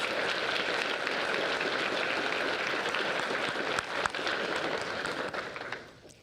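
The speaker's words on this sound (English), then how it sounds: "Give them a round of applause, please." A school awards ceremony audience applauds steadily and loudly for several seconds, a dense wash of clapping that tapers off at the end.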